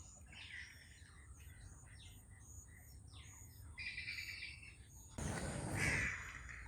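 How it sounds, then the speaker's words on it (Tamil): A bird, crow-like, calls repeatedly in a wetland park in Nawala, harsh caws and chirps standing out over quiet outdoor ambience, with a louder rustling burst near the end. "என்னவோ ஒரு பறவை"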